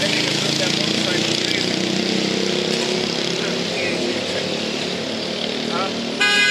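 A motorcycle passes with a loud, continuous engine drone that fills most of the stretch and eases slightly toward the end, mixed with street noise and a brief horn-like toot.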